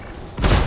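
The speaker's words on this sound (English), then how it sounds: "Fire missile." A missile fires in the Star Citizen space game, an Aurora ship's launch: quiet cockpit hum, then a sudden loud, broadband whooshing roar that swells and holds to the end.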